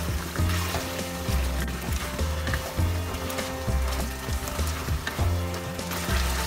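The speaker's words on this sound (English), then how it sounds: "Now we'll add ginger paste, garlic paste. Fry it 2 more minutes." Ginger and garlic paste sizzles and fries in a pan for palak chicken, with steady sizzling and a repeated scrape and stir of a spoon against the pan, loud and close with no talk.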